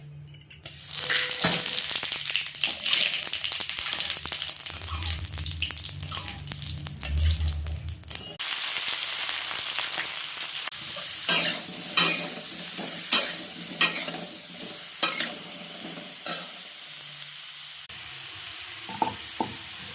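Cauliflower and cumin seeds fry in a pan for a puti fish curry, first as a strong, dense sizzle, then as a lighter crackle broken by repeated stirring scrapes and taps.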